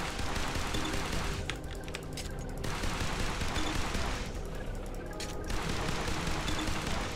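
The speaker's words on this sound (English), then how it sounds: "So maybe it's just something we have to shoot from over this side." Continuous gunfire from the rogue-lite action shooter game Beacon, a dense, steady barrage of shots with bursts of heavier fire, loud throughout with no gaps.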